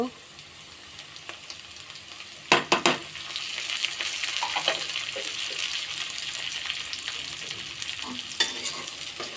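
Onions and chilies frying in hot oil with whole spices for khichuri, a steady loud sizzle throughout with a cluster of sharp stirring clatters early on and occasional scrapes of the spoon against the pot.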